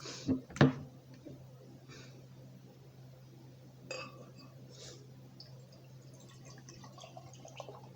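A beer, a banana-forward High Branch "My Buddy", is cracked open: one faint short click and a brief hiss in a quiet room, followed by a few soft clinks.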